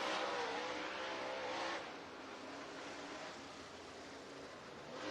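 Dirt track race cars run hot laps at North Georgia Speedway, a distant roar of engines that is loudest at first, then eases to a steady drone before rising again, with no voices.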